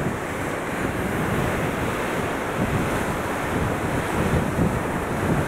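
Sea waves wash steadily beneath a strong, continuous rush of wind as a Princess cruise ship sails away from Le Havre on the Normandy coast of northern France; the broadband noise stays loud and even throughout, with no voices.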